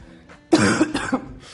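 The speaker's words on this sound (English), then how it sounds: "Sorry, I have a bit of a cough." A person coughs close up in a few quick, rough bursts packed into under a second, heard alone against a quiet background.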